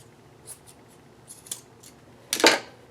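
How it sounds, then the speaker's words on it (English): Scissors trimming fabric at a sewing table, heard as several small, soft snips followed by one louder, crisper cut near the end, close and alone. "I'm just going to trim that a little bit more."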